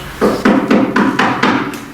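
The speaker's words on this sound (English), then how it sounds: "She knocked on their door." Knocking on a wooden door: seven evenly spaced, firm knocks in a steady rhythm, close and fairly loud, with no voices.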